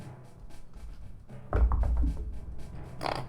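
Dice tumble across a table during a Dungeons & Dragons session, with one heavy thunk followed by a scatter of clattering knocks, then a lighter rattle toward the end.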